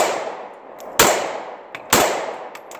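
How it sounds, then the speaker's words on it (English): Brownells G-26 pistol firing two sharp, loud gunshots about a second apart, each followed by a brief ringing decay, with smaller metallic clicks between them. "Did not lock out that time, but we did manage to get a couple of shots to run through this."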